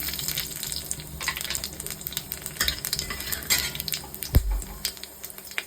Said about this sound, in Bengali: কড়াইতে আমি পরিমাণ মতন তেল দিয়ে দিয়েছি, তেলটা একটু অল্পই দিয়েছি। ফোড়নে দিচ্ছি সামান্য পরিমাণে কালো জিরে আর শুকনো লঙ্কা।